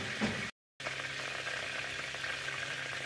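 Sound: onion, garlic, ginger and green chilli paste frying in oil

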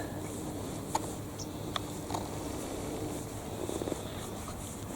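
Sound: cat

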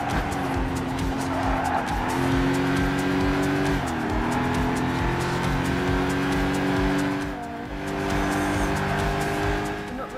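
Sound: Camaro car engine racing in Gran Turismo 5 video game

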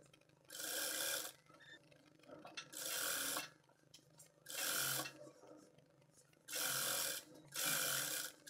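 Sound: straight-stitch sewing machine sewing a dress hem

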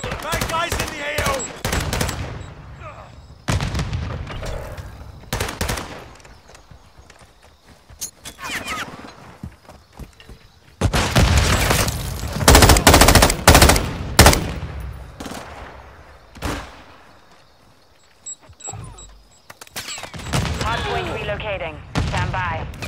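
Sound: gunfire in the video game Call of Duty MWII

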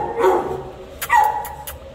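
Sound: dog barking at animal care services

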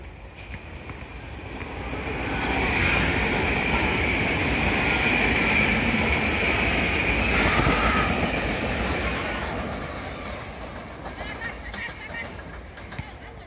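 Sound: SEPTA Regional Rail train passing

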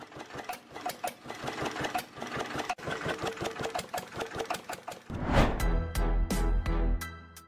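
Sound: old farm tractor engine running in a Volkswagen

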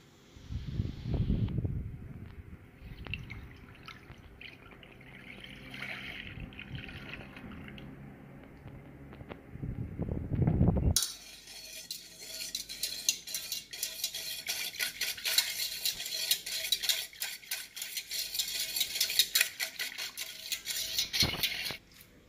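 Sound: stirring flan mix with milk in a saucepan

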